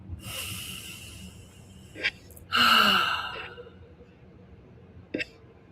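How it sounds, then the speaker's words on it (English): A slow, deep breath drawn in and let out, a loud breathy rush in the middle with a couple of short sharp intakes before and after, set against quiet background. "So take a deep breath with that."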